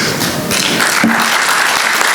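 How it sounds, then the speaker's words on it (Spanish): Applause from an audience at an in-person lecture in Cartagena, a dense, steady patter of many hands clapping together at close range, loud and sustained throughout. "un aplauso colectivo para tu obra"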